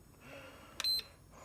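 A LiPo battery charger for Tamiya RC cars beeps during a battery check, two short electronic tones close together, brief and moderately clear over a quiet room.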